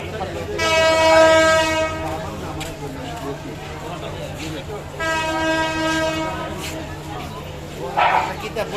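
A moving train rumbles steadily while its horn blasts twice in long, loud tones, with a dog barking and voices underneath.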